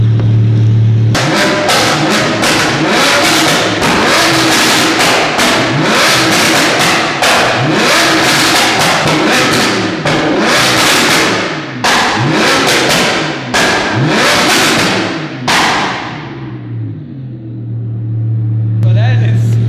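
A loudly tuned Audi R8 with a flame-spitting tune revs hard again and again, each throttle blip ending in sharp crackles and pops, then settles back to a low idle.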